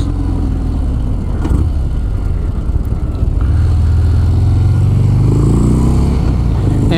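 A 2018 Harley-Davidson Fat Bob with carbon fiber wheels roars loudly while riding. The engine drone is steady at first, then climbs in pitch as it accelerates, with wind rush throughout.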